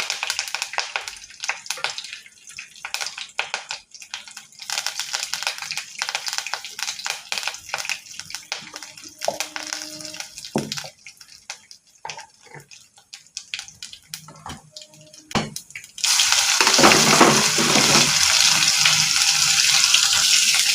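Scattered crackles and pops build up, then a loud, steady sizzling hiss takes over near the end, as cumin, curry leaves and garlic spit in hot oil for tempering.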